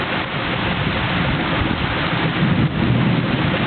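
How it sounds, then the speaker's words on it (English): Heavy rain pours down during a storm under a tornado watch. The downpour is loud and dense, with a low rumbling roar underneath and no voices. "this is the exact same type of rain that was on the first Jurassic Park"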